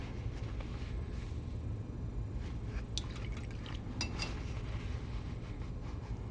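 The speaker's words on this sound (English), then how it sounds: "So I have, preserved this in oil too, so I'll rinse the oil out before I get started" Oil is rinsed out of a synthetic Dragonfly pinstriping brush with liquid, giving faint, soft trickling and a few light splashes and drips that are quiet and close.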